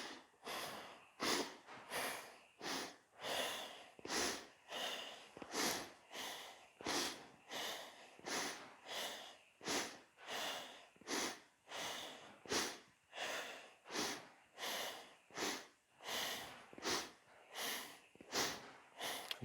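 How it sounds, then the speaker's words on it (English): Fast, forceful breathing in and out through the nose during a yoga stretch, a steady run of sharp rhythmic sniffs and puffs, roughly one or two per second, close and alone. "Inhales and exhales through your nose, fast inhalations and exhales"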